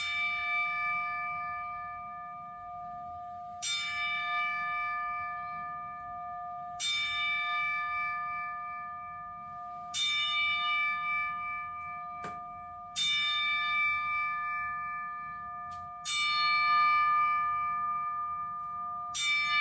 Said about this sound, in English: we're going to have a 10 bell salute